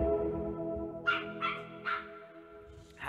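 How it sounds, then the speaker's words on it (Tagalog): A dog barks four times at a moderate distance, in separate quick yelps spaced about half a second apart, over a sustained guitar-like tone in the background. "Rinig niyo yung tahol?"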